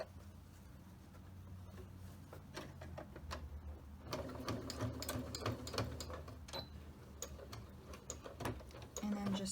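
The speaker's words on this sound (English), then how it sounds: "And then I'm going to back stitch over this seam to make sure it's secure too." A home sewing machine back stitches over the seam of a fabric face mask, its quick mechanical clatter running in short bursts and growing busier and louder partway through, close up.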